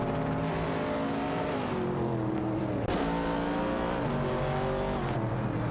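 Simulated race cars in a racing video game, including a Porsche 906 and an Opel Commodore, engines revving hard with rising and falling pitch as gears shift, dense and loud with overlapping cars close by.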